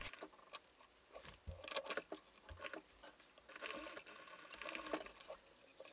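A sewing machine topstitches the seam allowance of sweatpants in short, quiet bursts, the stitching starting and stopping with faint pattering clicks between runs.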